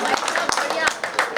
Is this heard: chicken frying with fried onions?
no